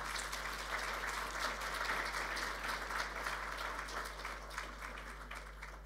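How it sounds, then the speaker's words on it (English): Audience applause after a talk on waste management systems, a steady dense clapping sustained at even loudness across the whole stretch, with no voices over it. "Big applause."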